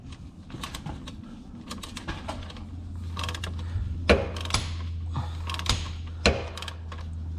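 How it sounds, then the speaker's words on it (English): A torque multiplier is cranked on a timing belt bolt of a 1L Ford EcoBoost engine, producing repeated ratcheting clicks and creaks with some sharper metallic knocks over a low steady hum, close by. "Basically, a lot of turning on this torque multiplier."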